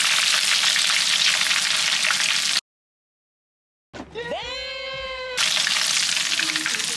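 Ice cream frying in hot oil, a loud steady sizzle that cuts out abruptly, then returns after a brief gap.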